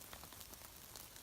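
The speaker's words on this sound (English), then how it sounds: "And the rain's about to stop, we hope." Rain falls on a mountaintop campground along the Appalachian Trail, a faint, even patter of drops lasting about a second, with no voices.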